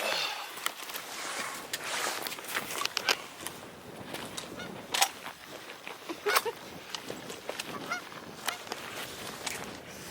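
Canada geese honking repeatedly in a field during a hunt, a mix of near and farther calls in irregular bursts over a background of rustling and faint footsteps.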